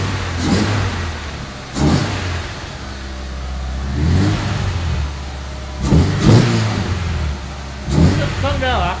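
A Toyota AE86 engine revs in repeated bursts, roughly five sharp rises and falls over an idling rumble, close by, with people talking between and over the revs.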